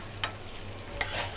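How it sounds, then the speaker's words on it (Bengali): Capsicum, carrot and onion frying in a pan, a soft steady sizzle with two brief stirring scrapes, close but fairly quiet. "গাজর আর পেঁয়াজটাকেও আবার ভেজে নিচ্ছি।"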